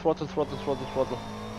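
Race car engine in a racing simulator game, a buzzing, pulsing engine note rising and falling in quick revs under a man's speech.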